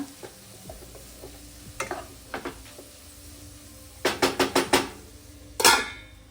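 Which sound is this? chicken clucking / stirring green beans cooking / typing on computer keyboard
stirring green beans cooking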